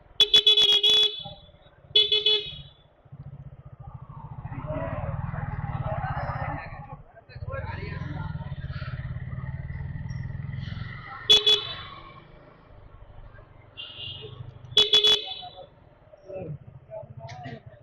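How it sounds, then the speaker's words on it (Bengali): Short, sharp vehicle horn honks sound near a garage where a motorbike is being parked: a pair of quick toots, then two more single blasts later, with a low engine-like hum and people talking in between. "কে হর্ন দিল?"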